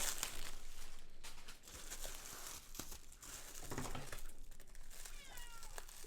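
A house cat meows a few times during the unboxing of tightly packed adult coloring supplies, short tonal cries near the end over loud crinkling and tearing of wrapping and bubble wrap.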